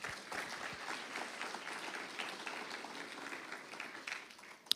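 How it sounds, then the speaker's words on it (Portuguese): A congregation claps together during a church service, a soft, continuous patter that holds steady throughout and fades a little near the end, heard from some distance. "Aplauda Jesus mais uma vez"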